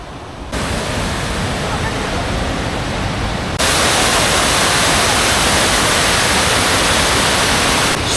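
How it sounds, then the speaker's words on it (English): A multi-tiered waterfall in Laos roars as a dense, steady rush of water, close and loud, growing even stronger partway through. "So many different levels to this waterfall, but they're all pretty blue."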